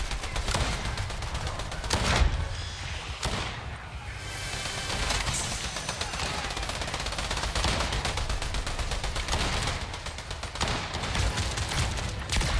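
Rapid bursts of automatic gunfire crackle almost nonstop in a Fortnite match as a player shoots at an opponent, loud and dense with brief gaps between volleys.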